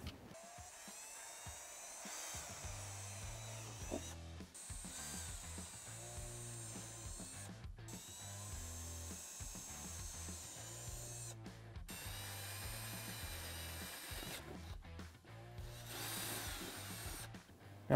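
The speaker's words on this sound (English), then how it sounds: "so we know we can go ahead and drill." A power drill grinds through a UTV panel in repeated bursts, its motor pitch rising and falling with short pauses between pushes.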